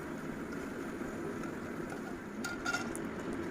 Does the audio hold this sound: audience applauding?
no